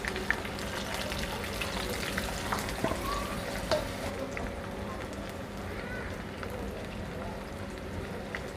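Street-style cauliflower pakoda fries in hot oil with a constant bubbling crackle and scattered pops. It is fairly faint and close, and the sizzle eases slightly in the second half.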